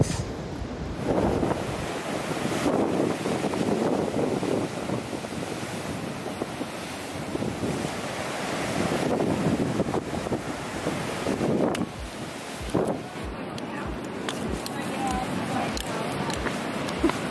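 Surf rolls in continuously on the rocky Sydney coastline between Coogee and Bondi, a broad, swelling wash of breaking waves with heavy wind noise and occasional voices nearby.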